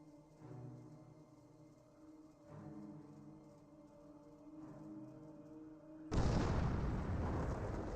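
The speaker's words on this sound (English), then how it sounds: "Landmine detonated." A landmine detonates in the real-time strategy game Company of Heroes, a sudden loud, broad blast that follows several soft muffled thuds over a humming game background.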